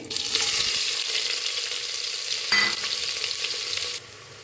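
Chopped onions frying in hot ghee and oil with mustard seeds and cumin, a bright, loud sizzle with stirring scrapes and a sharp burst midway, cutting off abruptly near the end.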